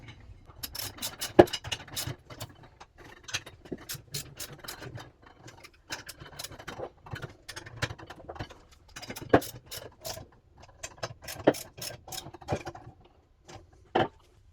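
Bolts on a SNEED-JET Titan T6 printer stand being tightened down, a run of close, sharp ratcheting clicks and metallic ticks in uneven bursts, with no talking.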